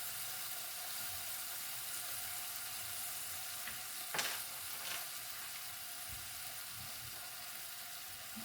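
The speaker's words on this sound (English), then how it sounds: "In goes the venison. It doesn't take long, and once the meat is starting to brown," Venison sizzles as it browns in a pan, a faint, even frying hiss with a single sharp clink of a utensil midway, quiet and steady throughout.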